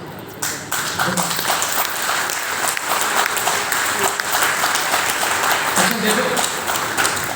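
An audience at a spiritual talk applauds, a sustained wash of clapping from many people that continues evenly for several seconds, with a few faint voices underneath.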